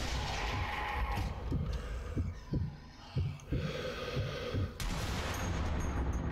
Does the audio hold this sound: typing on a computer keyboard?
no